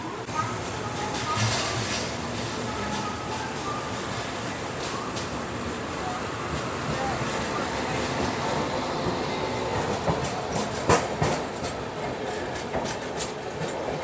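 The Humsafar Express pulls out of Bhubaneswar railway station, a steady rumble of carriages with faint clickety-clack and brief metallic squeals, heard from on board, with a voice talking over the noise.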